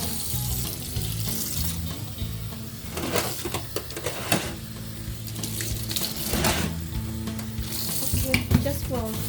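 Warm tap water runs steadily into an indoor sink while snake plants are being watered, a continuous splashing hiss with some handling noise.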